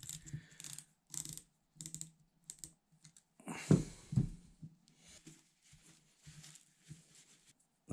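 A PENN 525 Mag fishing reel clicks as its handle turns, a series of quiet, close mechanical ticks in irregular bursts with short pauses between them.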